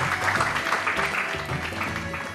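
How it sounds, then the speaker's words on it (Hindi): Studio audience clapping during a Ramadan iftar TV broadcast, a steady dense wash of applause at moderate level with faint voices mixed beneath. "और तालियां।"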